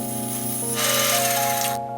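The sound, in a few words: bandsaw cutting an aluminium table rail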